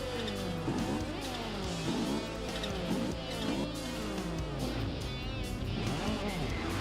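A 1973 BMW Turbo drifting around docks in Forza Horizon 2, its engine revving up and down in repeated sweeps with short tire chirps as it slides, loud and continuous.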